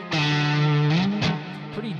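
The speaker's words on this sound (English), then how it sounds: "we've got the delay and the reverb." Electric guitar played with delay and reverb effects, a sustained bright note bending upward and then ringing off as repeats trail behind it, with a second struck note near the end; loud and up close, no talk.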